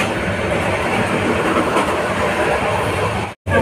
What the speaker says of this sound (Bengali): এই হলো কক্সবাজার এক্সপ্রেস ট্রেনের